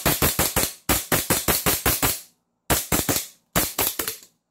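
A 2011-style pistol fires rapid strings of rounds in quick bursts, with sharp, loud cracks in tight clusters separated by short pauses, and no voices.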